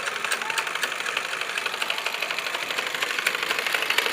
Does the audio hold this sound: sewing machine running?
yes